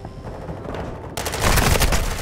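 Rapid automatic gunfire from a Call of Duty: Modern Warfare II match, starting with a quieter stretch and then breaking into a loud, dense burst of shots that lasts to the end.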